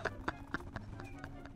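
Donkeys in Minecraft moving about, a steady run of hollow clip-clop hoof taps, close and regular over about a second and a half, no words spoken.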